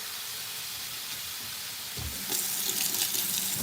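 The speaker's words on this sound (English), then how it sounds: "And then we're gonna add a little water." Water poured into a pan of searing marinated lamb chops, a sudden hissing rush and sizzle that swells midway and continues close and steady.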